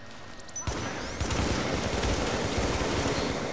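Turrets in The Division video game, Dark Zone, fire sustained automatic bursts: a dense, continuous roar of gunfire that swells after a brief quieter start and carries on without pause.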